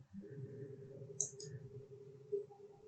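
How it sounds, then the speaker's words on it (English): A computer mouse left click while working in AutoCAD, two quick faint clicks close together over a low room hum, followed by another soft tap. "left click"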